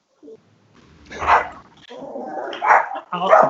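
A small 8-pound Yorkie barks at a FedEx delivery man at a house, several sharp yappy barks and whimpering yips in quick bursts, close and loud, with a voice speaking nearby.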